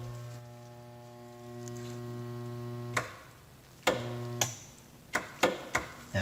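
A clogged garbage disposal motor in an apartment kitchen sink hums steadily when switched on, a loud stalled electrical drone that cuts off abruptly, followed by several sharp clicks and knocks.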